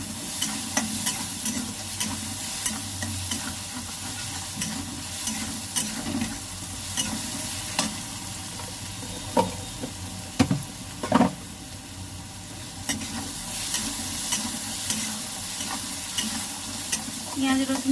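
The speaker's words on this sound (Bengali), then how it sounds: "পেঁয়াজ রসুনটা কত সুন্দর ভাজা হয়ে গেছে।" Onion and garlic fry in a pan with a constant sizzle, while a spoon stirs and scrapes in frequent irregular clicks and knocks close by.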